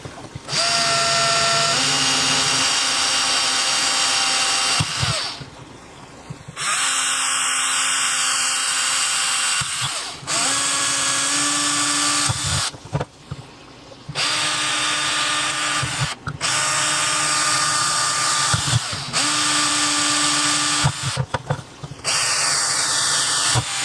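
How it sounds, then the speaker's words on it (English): A power drill whines loudly in long bursts, pausing briefly between holes, its pitch shifting as it bites into material. "I'm drilling holes roughly about the size of their shell"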